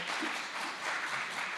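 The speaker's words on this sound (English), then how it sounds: "Well, again, a big applause." A conference audience at a sustainability congress applauds, a steady wash of moderate clapping at some distance with no talk over it.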